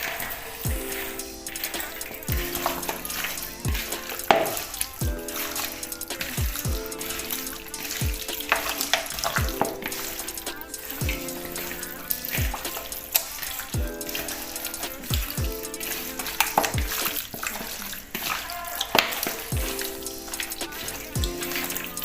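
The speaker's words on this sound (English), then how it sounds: "So then I dig in with my hands and just mix." Seasoned chicken is mixed by hand in a bowl, producing wet squelching and slapping in a steady repeating rhythm for over twenty seconds, close and fairly loud.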